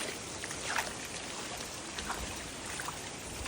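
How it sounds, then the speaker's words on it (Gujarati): Heavy rain falls at night, a steady broadband hiss of drops with a few louder spatters close by, continuous and even from start to finish. "ધોધમાર વરસાદ આવે છે."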